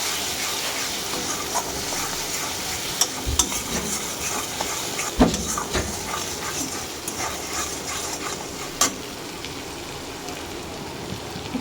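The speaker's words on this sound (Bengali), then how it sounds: "এইবারে ভালো করে একটু কষিয়ে নেব।" Spices with Kashmiri chilli sizzle steadily in a pan, a loud continuous frying hiss broken by occasional scrapes and knocks of stirring.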